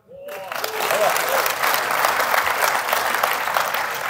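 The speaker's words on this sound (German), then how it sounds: "Applaus" Applause from a seminar audience at a driving school conference swells within half a second and holds as steady, dense clapping throughout, with a faint voice briefly audible at the start.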